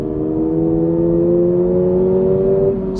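Toyota GR86 flat-four boxer engine accelerating in third gear on a foggy open road, a loud, close, continuous drone that climbs gently in pitch with no talk over it.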